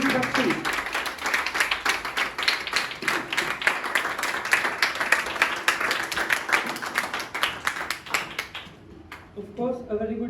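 An audience at an English speaking practice academy claps for a student speaker, a dense run of close, rapid handclaps lasting several seconds, then dropping away as a voice begins.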